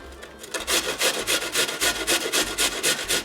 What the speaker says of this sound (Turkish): İnce gözünde e, rendeliyorum ki ağza gelmesin diye.